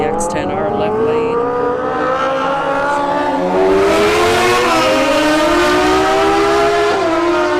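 A CX-10R drag race car launching down the left lane of a drag strip at Bradenton Motorsports Park, engine climbing through rising gear-like pitch sweeps with a brief shift dip near the end, loud and close.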